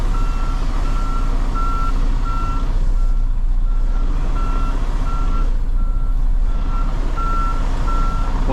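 A Pepsi delivery truck backs up with its reverse alarm sounding steady evenly spaced beeps over a loud low diesel engine rumble, close and continuous.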